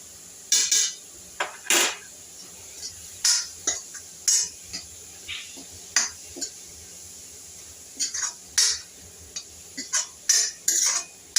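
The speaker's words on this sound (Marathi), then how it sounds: "यातला आता ओलसरपणा निघून जाईपर्यंत आपल्याला हे असं परतून घ्यायचं आहे गॅसवरती" A spoon scrapes and clinks against a pan on a gas stove as moist modak filling is stirred, in repeated short bursts with brief quiet gaps between them.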